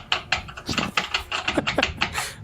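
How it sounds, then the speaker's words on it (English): Rapid clacking keystrokes on a computer keyboard, a quick irregular run of sharp taps, close and fairly loud. "You would have heard me typing. With his loud clackety-clinky keyboard."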